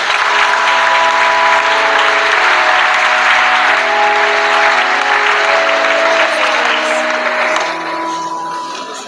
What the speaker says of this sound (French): Si on peut applaudir, ça serait bien.